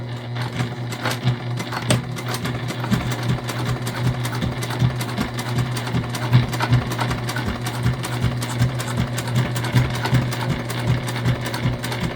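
A sewing machine top stitching a bag through several layers of fabric, a steady rapid mechanical thumping hum that runs close and continuous throughout with no talking.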